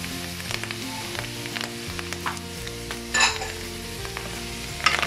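Mushrooms and onion fry in a hot pan for a creamy spinach carbonara, giving a steady close sizzle with a few louder bursts as the food is stirred and moved.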